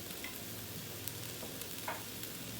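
Bacon fried rice with corn and carrot cooks in a pan, a quiet, even sizzle with a few light stirring scrapes, close but faint, no talking.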